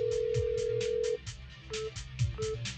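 A telephone at a police station rings insistently in repeated short electronic bursts, loud and close, with a steady hum beneath and no voices.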